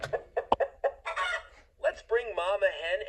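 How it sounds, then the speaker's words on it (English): A cartoon chicken clucks in a Peppa Pig farm video game, a series of short, close clucks followed by a longer, warbling rooster-like call. "Oh, that's chicken. This is a rooster, Dad."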